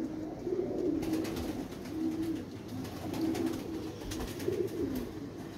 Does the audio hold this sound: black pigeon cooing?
yes